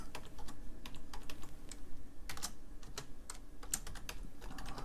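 Keys clatter on the keyboard of an IMSAI 8080 replica computer, a steady run of close, crisp clicks with brief irregular pauses and no voices.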